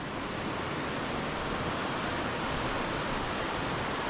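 Steady rushing water below a scenic overlook on a Smoky Mountains hike, a broad continuous roar heard from a distance with no voices.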